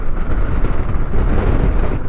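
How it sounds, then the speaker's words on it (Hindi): Strong wind buffets the microphone on a motorcycle ride from Srinagar to Patnitop, a loud, continuous low rumble and roar with no break, no voice over it. "हवा चलने लग गई एकदम बुरी वाली।"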